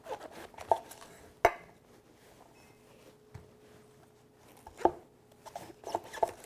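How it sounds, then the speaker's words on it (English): A Nakiri knife halves a cabbage on a kitchen cutting board, giving a few sharp, isolated thunks spaced seconds apart, close and fairly quiet against a faint background hum. "Let's take cabbage, we'll cut it in half."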